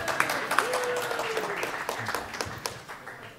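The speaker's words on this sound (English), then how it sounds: "Give this man a round of applause." Audience applauding a winner at a poker industry summit, a steady wash of clapping with a few sharper claps, moderately loud and sustained throughout.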